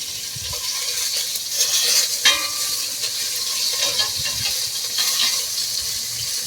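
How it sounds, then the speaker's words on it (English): Beef browns in a pot for beef bourguignon, a close, steady sizzle with scraping stirs and small clacks of the utensil against the pot. "Let's start the cooking process with browning our meat."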